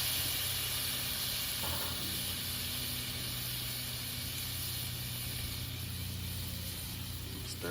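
Garlic sizzling in melted butter in a hot pan over an outdoor fire pit, a steady broad hiss that runs unbroken and fairly loud with no talk over it.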